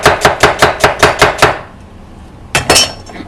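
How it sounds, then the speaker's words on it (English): Close, crisp knife strokes cut thin slices of white onion on a cutting board, about eight evenly spaced chops, then a pause and a short burst of two more. "Onion, white onion, just sliced."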